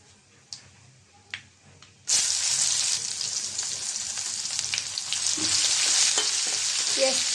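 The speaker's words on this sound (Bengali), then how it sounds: "পেঁয়াজ কুচিটাও ভেজে নেব।" Chopped onion dropped into hot oil seasoned with dried chillies, bay leaf and five-spice, bursting into a loud, steady close sizzle after a few quiet clinks, with stirring scrapes over the continuous hiss.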